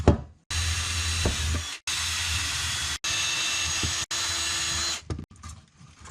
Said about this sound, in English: I'm just going to put some holes where I think they will be okay